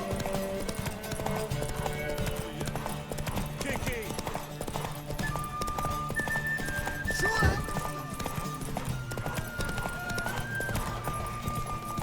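Hooves clip-clop rapidly in a steady gallop with a horse whinnying, over The Witcher 3 game music and people talking.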